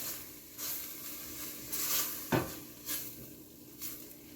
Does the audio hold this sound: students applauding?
no